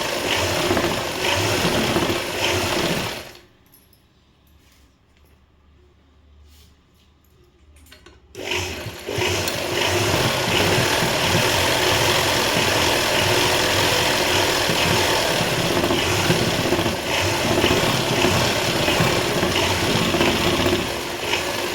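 A sewing machine runs an overlock stitch along the edge of a blouse, a steady dense mechanical whirr that stops for several seconds and then starts again, loud and close, with nobody talking.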